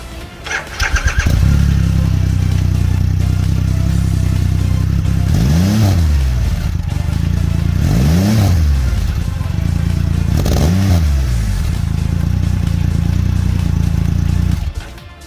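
A 2022 Triumph Rocket 3R Black Limited Edition motorcycle's big engine starts and idles with a deep, steady rumble, punctuated by three short revs that rise and fall, loud and close.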